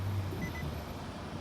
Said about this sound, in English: There's that handbrake alarm.